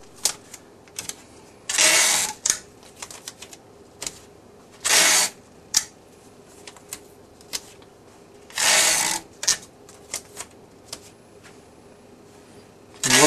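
Tape pulled from an Achem 4-inch inline tape dispenser, heard as three loud, drawn-out ripping bursts, each lasting about a second, with light clicks and handling noises scattered in between.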